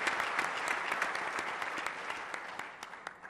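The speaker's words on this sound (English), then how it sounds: "Round of applause, please." Audience at an African Sustainable Development Goals conference applauds steadily after the president's appearance, a dense, sustained clapping from a full room with no talk over it.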